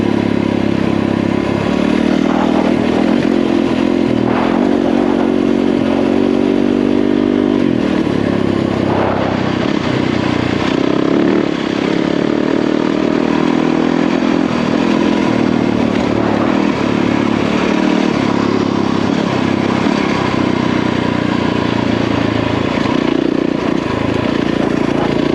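A motorcycle ridden along a forest road, its engine droning loud and close throughout with gear changes and revs, plus clattering and scraping from the rough track.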